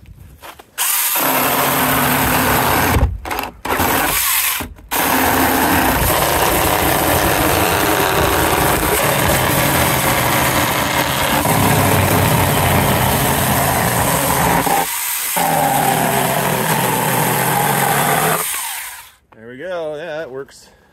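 A Saker mini chainsaw cuts up a wooden pallet, its loud close buzzing motor running in long sustained bursts with brief stops and restarts, then cutting off near the end.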